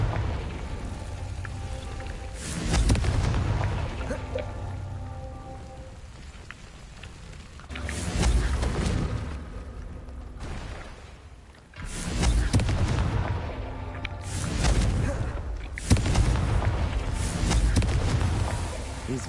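Fiery Confringo spell blasts in the Hogwarts Legacy video game, several heavy booming explosions in bursts with rumbling, crackling decay between them, loud and close, mixed with game sounds.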